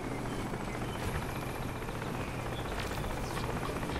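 Helicopter rotor in the shooter game Crysis, a steady thumping whir with continuous engine drone, moderately distant and unbroken for the whole stretch.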